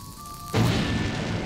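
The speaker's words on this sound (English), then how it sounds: "Oh, perhaps with bomb." Bomb going off in The Legend of Zelda: Link's Awakening: a faint game tone, then a sudden single boom that rings out and decays briefly.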